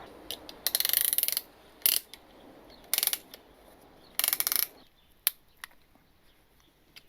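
A ratchet wrench clicks in quick bursts while tightening a bolt during an engine rebuild on a turbo Honda Civic, several short rapid runs of close, crisp clicks separated by pauses, with a few single clicks at the end.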